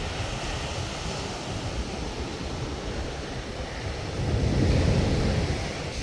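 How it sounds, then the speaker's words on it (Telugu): Ocean waves crash steadily onto a rocky beach at Pondicherry, a broad continuous roar with wind rumble that swells louder near the end, with no talking. "అలలు దారుణంగా వస్తుంది"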